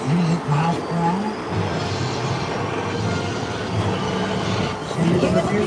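A Universal Studios Hollywood studio tour tram rolls along with a low rumbling motor hum under an announcer's voice and passenger chatter, steady and moderately loud.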